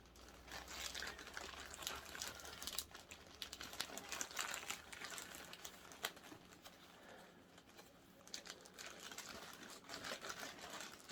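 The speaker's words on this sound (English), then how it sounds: "excuse the rustling and the noise" Packaging for cross-stitch supplies crinkles and rustles in faint, close bursts of crackling plastic, irregular and continuing throughout in a quiet room.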